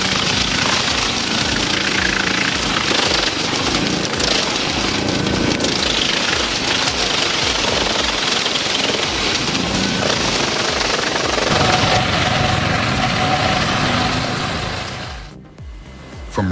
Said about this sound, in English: The Gandini Meccanica 5075 shreds logs with its 75 horsepower engine and high-speed rotor